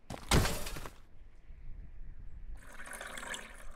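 Oil glugs and trickles into a car in the driving survival game The Long Drive, a loud splashy burst first, then a quieter steady pour after a short lull.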